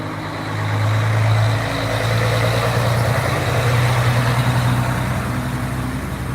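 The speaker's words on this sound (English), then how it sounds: "refuse trucks" A refuse truck's engine idles on an Odessa street, giving a steady low rumble with a constant droning hum throughout and no break in the sound.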